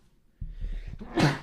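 One person sneezes during a chat about Star Wars news: a short inhaled build-up, then a sharp, loud, close sneeze burst.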